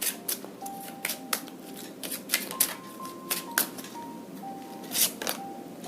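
Tarot-style fortune telling cards handled and shuffled at close range, a run of quick papery flicks and snaps in uneven bursts with brief pauses between.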